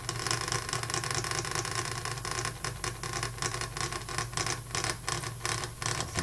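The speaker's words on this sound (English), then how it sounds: "you can see that it starts spinning, and then the closer you bring the coil in, the more it wants to spin." A homemade pulse motor with larger magnets spins steadily, giving a dense, even whirring rattle with a fast regular pulse, close and moderately loud throughout, without any voices.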